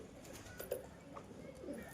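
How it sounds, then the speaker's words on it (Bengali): Soft, low pigeon coos come quietly from nearby, a couple of short murmuring calls over faint background noise. "কবুতর ছেড়ে দিলাম নিচে কারণ একটি নতুন কবুতর উড়ে উঠেছিল"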